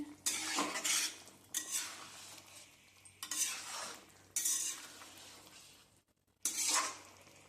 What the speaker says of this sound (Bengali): দিয়ে একটু নাড়াচাড়া করে মিশিয়ে নিচ্ছি গ্রেভির সাথে সবকটা চিকেন